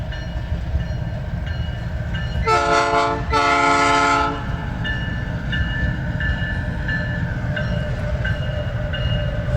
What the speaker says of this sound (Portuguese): Agora lá vem o trem.